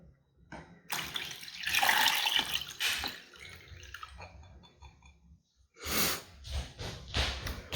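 An apple cider vinegar fabric dye mixture is poured out in two separate spells, each a loud, splashy liquid rush, with a short quiet pause between them.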